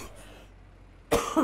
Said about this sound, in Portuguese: E eu tô com uma tosse bem chata